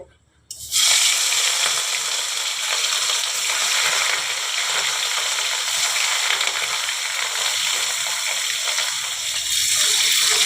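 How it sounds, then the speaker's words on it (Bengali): Rohu fish pieces slid one by one into hot oil erupt into a loud, continuous close sizzle that starts abruptly and holds steady without talk. "এই যে আমি এবারে মাছগুলোকে এক এক করে ছেড়ে দেব।"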